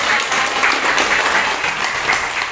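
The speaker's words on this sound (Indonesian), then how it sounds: "Tepuk tangan dong buat Pak." A crowd applauds steadily for a guest during an official visit event, a dense wash of many hands clapping close by with no talk over it.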